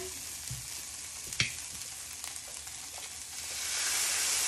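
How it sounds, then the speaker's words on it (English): Vegetables being stirred into golden-brown rice frying in a pan, a steady close sizzle with soft scraping and one sharp clink of the utensil, the frying hiss swelling louder toward the end. "I'm gonna stir the veggies right in the middle"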